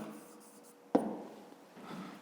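Pen strokes on paper while a fifth-grade maths exercise is worked out, a faint scratching with one sharper tap near the start of the writing, quiet and alone.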